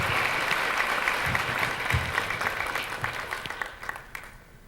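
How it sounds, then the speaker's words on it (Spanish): Steady, dense applause from an audience at a livestock fair opening fills the space, thinning into scattered claps toward the end. "La verdad es que merecen un muy fuerte aplauso"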